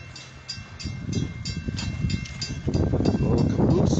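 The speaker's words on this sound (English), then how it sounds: "Let's get a good look at Edaville's train of" An Edaville Railroad train passing close by at the railroad's 75th anniversary event, a rumbling, clattering roll with rhythmic wheel clicks that grows louder toward the end, with some wind noise.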